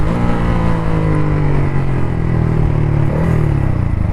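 A Yamaha MT-15 V2 motorcycle engine revs steadily and loudly up close, its low throbbing note rising slightly toward the end, with no voices over it.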